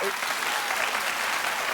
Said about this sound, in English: Clap if you agree with me that you don't like that show.